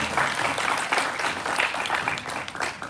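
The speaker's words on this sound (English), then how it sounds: "Let's go ahead and give both Michael Tubbs and Oliver Ma a round of applause." An audience at a lieutenant governor candidate forum applauds the two candidates, a dense, steady wash of clapping from many hands in a room that holds evenly for the whole span.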